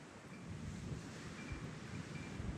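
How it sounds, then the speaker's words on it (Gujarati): Strong wind roars across an open farm field during rainy weather, a loud continuous rush with low gusty buffeting against the microphone and no speech. "જોવો તમે કેટલો પવન છે અહીંયા."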